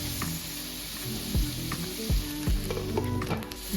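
Cubes of salmon sizzle steadily in a hot pan, a loud close frying hiss with a few soft scraping knocks as the pieces are moved.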